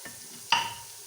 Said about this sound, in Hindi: अब मैं इसमें अदरक और लहसुन डाल रही हूँ।